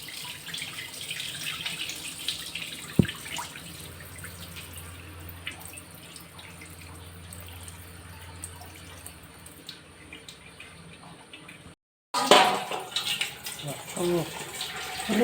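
Water trickles and pours steadily into soaked ingredients for soft idli batter, a close, thin running sound under intermittent talk, cut by a brief silence before louder splashing resumes.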